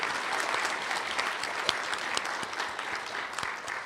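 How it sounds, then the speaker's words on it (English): Steady, dense applause from a large audience fills the hall at a Treaty 3 awards banquet, with many hands clapping continuously at an even level. "Another round of applause"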